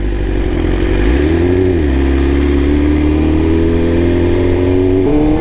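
BMW big bike motorcycle engine carrying a rider, a loud close steady drone that rises in pitch around the first second, dips, then holds level and climbs again toward the end.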